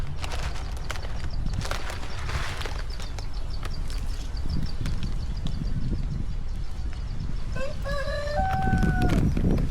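A rooster crows loudly near the end, its drawn-out call rising over a busy farmyard with clucking and scattered clatter.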